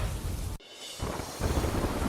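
Heavy rain pours in a dense, steady roar that cuts out for a moment, then returns just as loud and continuous.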